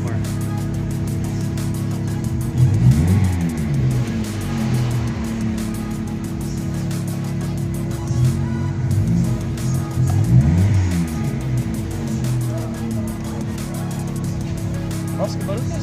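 A gasoline car engine with a fuel injector idles close by, a steady low rumble with a few brief revs rising and falling, and faint background noise.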